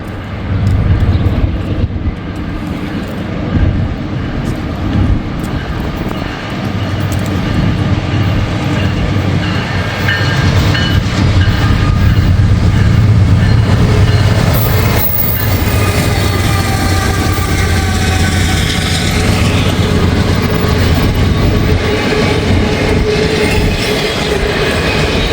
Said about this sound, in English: Got another train coming up the line. It's Norfolk Southern.